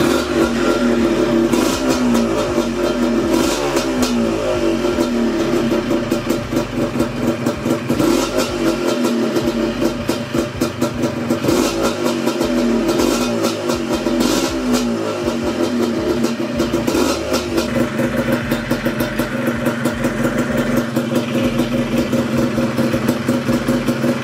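A 1995 Yamaha DT125 enduro motorcycle engine runs close by, keeping a loud, raspy, continuous note with repeated rises and falls in revs throughout and no talking.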